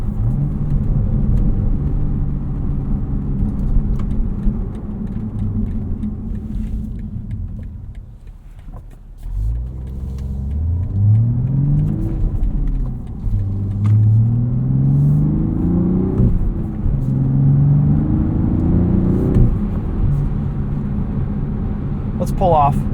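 A 2025 BMW Z4 M40i sports car with a six-speed manual is pushed hard through corners, its engine a steady loud rumble with repeated rising revs as it accelerates out of each bend.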